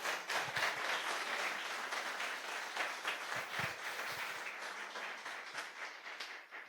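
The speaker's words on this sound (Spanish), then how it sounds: "Dale ese aplauso al Rey" Applause from a church congregation during a sermon, a lively burst of many hands clapping that holds steady, then thins and fades toward the end, with light voices underneath.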